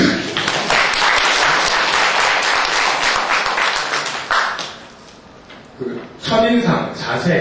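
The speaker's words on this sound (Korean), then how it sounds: "박수 쳐주시고" Applause from an audience at a job fair mock interview event in Korea, a dense burst of clapping that fades out as a voice takes over.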